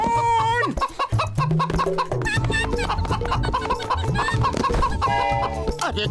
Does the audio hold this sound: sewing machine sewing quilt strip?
no